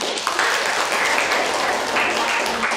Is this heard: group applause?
yes